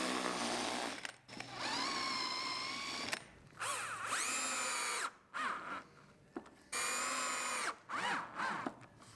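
A cordless power drill drives screws into a wooden router jig for mortice latch faceplates held with super glue, running in several sustained whirring bursts that rise and fall in pitch, with short pauses between, close and loud.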